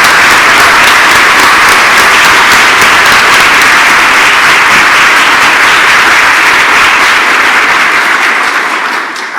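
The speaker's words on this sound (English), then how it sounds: "one more round of applause" A sustained, dense round of audience applause for the ten 2019 National Medal for Museum and Library Service recipients fills the hall, loud and steady, then tapers slightly at the very end.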